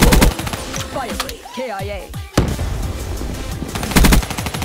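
Rapid automatic gunfire in a Black Ops 3 team deathmatch: loud, crackling bursts open and close the moment, with a quieter stretch of scattered shots between them and a man's brief excited exclamation.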